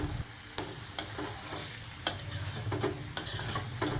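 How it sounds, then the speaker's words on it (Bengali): Fried cauliflower is tossed into a pan of spice masala, a steady close sizzle punctuated by sharp spatula scrapes and stirring clatter at irregular intervals, with no voices. "এরপর আমি দিয়ে নিলাম ভেজে রাখা ফুলকপিগুলো।"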